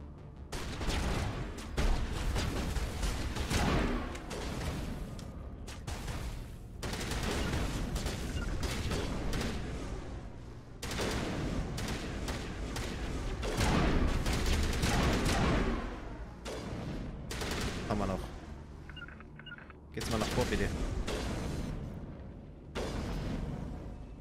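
Gunfire from a sniper rifle and other weapons in the sci-fi shooter Mass Effect, with dense, repeated loud shots and bursts running almost continuously, briefly pausing between volleys.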